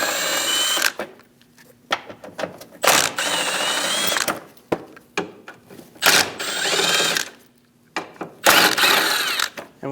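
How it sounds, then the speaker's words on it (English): A ratchet with a 10mm socket backs out bolts on a 2001-2006 Chevrolet Silverado 2500 HD headlight bracket, sounding as loud close bursts of rapid clicking separated by short quiet pauses. "Using a 10mm socket, remove the other 5 10mm bolts."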